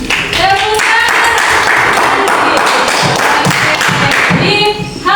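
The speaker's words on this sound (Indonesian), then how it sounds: "Tepuk tangan untuk Nandi." A classroom of students claps together for a classmate, a dense burst of applause that holds for several seconds, with voices mixed in throughout.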